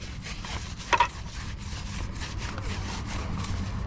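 A wheel brush scrubs the tire tread of a Jeep Wrangler Sahara 4xe in a rhythmic, raspy back-and-forth rubbing. One sharper scrape stands out near the start. The scrubbing is close up and continuous.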